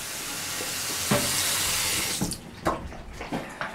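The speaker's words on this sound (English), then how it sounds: "Let me give you some more water" Water runs from a tap into a dog bowl with a steady hissing splash for about two seconds. Then it stops, and a few clinks and knocks follow at close range.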